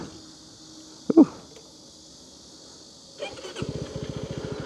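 A CFMOTO 250SR motorcycle engine cranks and catches after a brief click, then settles into a close, rapid, pulsing idle that continues to the end.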